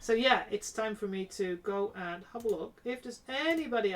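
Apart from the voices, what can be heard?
None of the usual background noises is heard.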